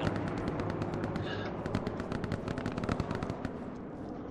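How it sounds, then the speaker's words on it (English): Gunfire in the World War II shooter game Hell Let Loose on Utah Beach, dense rapid machine-gun bursts and sharp shots crackling continuously throughout, loud and busy with no pause. "There's somebody shooting me from Le Grand somewhere in the house"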